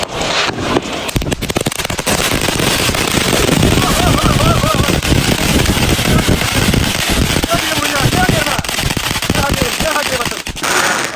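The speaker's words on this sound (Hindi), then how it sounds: "ये अब हमारा सबसे बड़ा बम एटॉमिक सालसा बम है।" Large Atomic Salsa firecracker bomb set off during Independence Day fireworks celebrations in the USA, a loud sustained barrage of dense crackling bursts and booms running nearly the whole time, with voices faintly underneath.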